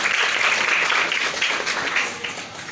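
Audience applause at the opening of a formal student debate, a steady wash of clapping throughout, loud and sustained, slightly easing toward the end with no talk over it.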